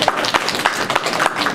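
An audience claps at a 2013 final speech, a brief, moderately loud spatter of hands that stays fairly even throughout.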